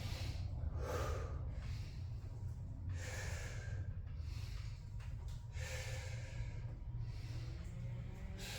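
Heavy breathing during a back workout in a garage gym, faint, rhythmic breaths and snorts repeating through a steady low background hum.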